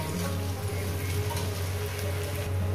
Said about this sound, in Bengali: 4 মিনিট ধরে আমি পেঁয়াজটাকে ভেজে নেবো, কাঁচা লঙ্কা পেঁয়াজটাকে